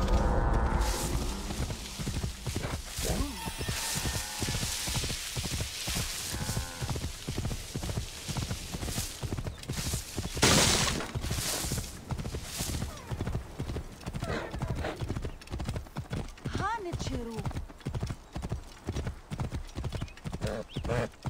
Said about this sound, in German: Der Hengst des Anubis? Kann man es reiten?